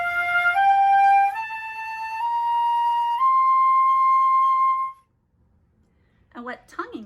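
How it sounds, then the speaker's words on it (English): A flute plays a slurred phrase of four or five stepwise notes joined by continuous breath, ending on a long held tone before a brief pause and a voice beginning to speak. "What slurring is uninterrupted air as we change notes."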